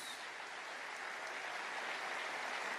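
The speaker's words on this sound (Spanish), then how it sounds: "Aplauda a Jesús." Congregation at a church conference applauding Jesus, a steady, dense wash of clapping that holds evenly throughout with no voices standing out.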